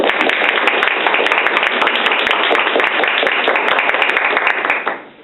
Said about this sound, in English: Let's go ahead and give our panel a round of applause.